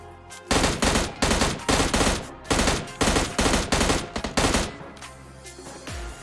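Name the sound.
M16 gunfire in PUBG Mobile Lite video game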